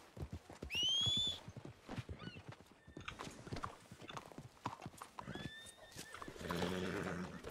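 Horse hooves clip-clop in Red Dead Redemption 2 on a RedM roleplay server, with a loud whinny near the start and another shorter neigh later, plus rustling movement and faint background talk.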